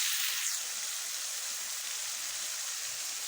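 Onion frying in a pan sizzles in a steady, dense, close hiss that stays even and unbroken throughout, with no voices over it.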